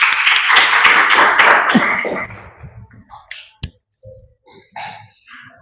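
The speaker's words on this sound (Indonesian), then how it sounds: "Oke, tepuk tangan, penguat." Classroom students clapping together in an Indonesian school lesson, a burst of dense claps for about two seconds that fades into scattered taps and a few sharp isolated claps.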